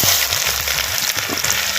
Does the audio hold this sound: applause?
no